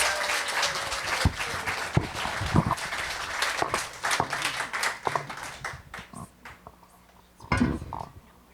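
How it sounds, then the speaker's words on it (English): An audience applauding at a book reading, a burst of clapping that swells and thins across several seconds, with scattered voices and noises in the room as it fades. "Please give Marie and our readers a big round of applause."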